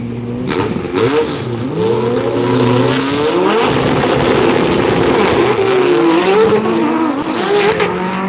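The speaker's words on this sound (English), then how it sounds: "Watch this twin turbo car over here." A twin turbo drag car at Sick Week in Gainesville, Florida revs loudly and close by, its engine climbing and falling in repeated surges over a constant roar, with no voices.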